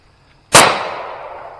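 A single loud gunshot fired outdoors in the woods, a sharp close crack followed by a long reverberating tail that fades through the trees.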